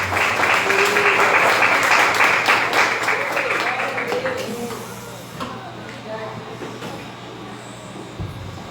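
A church congregation applauds loudly during a worship service, the dense clapping fading after about four seconds into a quieter murmur with voices and a low steady hum.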